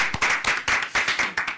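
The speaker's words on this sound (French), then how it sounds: "Un tonnerre d'applaudissements pour les trois présidents de cette voilà." A small studio group on a student campus talk show claps for three guests, a handful of close, distinct rhythmic hand claps in quick succession.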